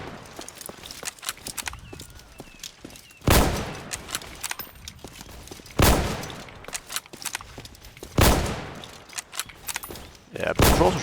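Sharp bursts of gunfire from a Roblox game, four loud broadband volleys spaced a few seconds apart over a busy bed of clicks and thuds.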